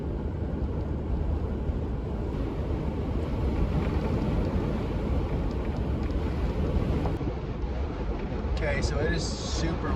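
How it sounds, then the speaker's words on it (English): Strong wind buffets a car driving on a New Mexico road, a loud, continuous low roar and rumble that fills the whole stretch, steady with gusty swells. "it is super windy here in New Mexico right now"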